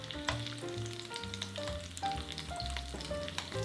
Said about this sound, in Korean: 팬에 올리브 오일을 두르고 다진 마늘과 썬드라이 토마토를 넣어 약불에서 볶아주세요